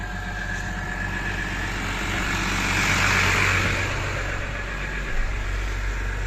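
Tractor engine pulling a Horsch Maestro 8 seeder during spring sowing, a loud steady diesel drone that swells briefly in the middle, heard up close with no talking.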